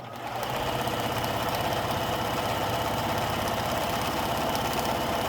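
A sewing machine stitches a quilt-as-you-go placemat, starting up and then running at a steady fast whirring, rattling pace throughout, close and continuous with no talk.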